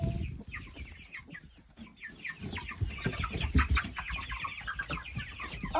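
A hen sitting in a nest box on a small farm clucks and squawks, close and fairly loud, in quick irregular bursts that build toward the end.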